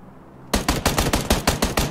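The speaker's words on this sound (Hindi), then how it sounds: "कहीं गोलियां चल रही बहुत।" Gunfire from the video game PUBG Lite cracks in after a quiet moment, a rapid burst of about eight loud, evenly spaced shots that sound close.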